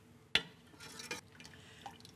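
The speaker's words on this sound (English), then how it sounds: "I like to press a little bit to get all the liquid out" Vegetable broth drips and trickles through a strainer as cooked vegetables are pressed: one sharp drop, then a few soft, sparse splashes in a quiet kitchen.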